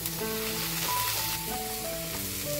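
Onions frying in a pan for an egg and drumstick curry, a steady sizzle with faint tonal hum in the background, heard close and continuous without speech.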